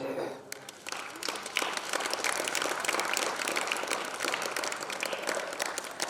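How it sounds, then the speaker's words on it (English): Students and staff at a school Republic Day assembly break into applause for a student called to the stage, a full, continuous crackle of many hands that swells after a quieter start. "All will clap for Akshat."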